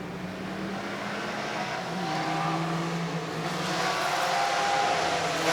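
Vintage sports cars, two E-type Jaguars and a fast Porsche, race past on a track, a loud, continuous engine drone that swells gradually as they draw nearer, with no voices.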